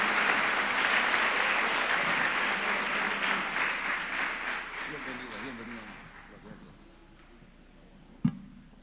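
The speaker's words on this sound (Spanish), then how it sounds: "recibamos con un caluroso aplauso de bienvenida en esta mañana" A church congregation gives warm welcoming applause to a composer, dense clapping that gradually fades after about six seconds, followed by a single sharp thump near the end.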